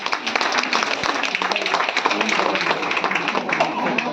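Applause from an audience at a Women's Day function, a dense, steady patter of many hands clapping that stays loud and even for the whole stretch.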